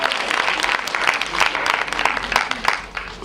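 An audience of mothers at a Mother's Day show applauds, a dense, steady wash of clapping filling the whole stretch, loud and continuous with slight swells.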